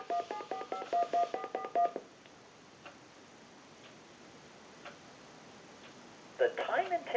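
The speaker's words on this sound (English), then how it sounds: "we'll call a time and temp number that we stored in the memory dialing" A Spirit of St. Louis Mark IV telephone on speakerphone memory-dials a stored time-and-temperature number. A quick run of about a dozen dial tones comes first, a quiet line hiss follows, and then ringing and line sounds start near the end.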